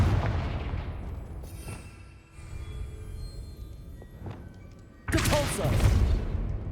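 A Confringo blasting spell explodes in Hogwarts Legacy, a sudden loud burst of blast and crackling debris after a quieter stretch of faint ambience and distant thumps.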